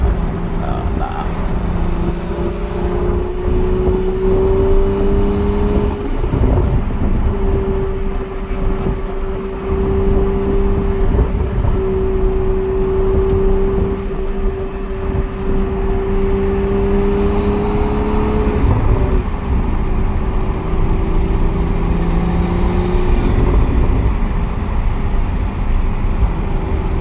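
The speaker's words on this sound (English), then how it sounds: "You can actually hear the turbo spool." A Toyota Supra A91 with an aftermarket exhaust drones loudly and continuously, with rising and falling tones that suggest turbo spool, and speech is audible over it.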